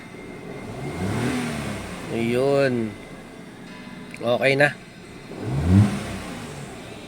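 A 2012 Kia Picanto petrol engine with a misfire, just fitted with new spark plugs, revs up and drops back three or four times in short, separate bursts, with brief talk between the revs.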